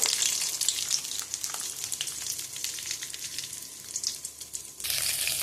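Chana dal and peanuts fry in hot oil with a steady, close crackling sizzle that swells briefly louder near the end; no one speaks.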